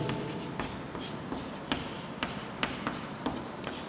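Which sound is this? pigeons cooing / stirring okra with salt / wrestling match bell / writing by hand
writing by hand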